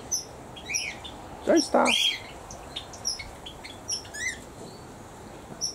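Birds in a pheasant aviary give scattered short chirps and tweets, a couple of louder calls standing out near the start, with a person talking softly nearby.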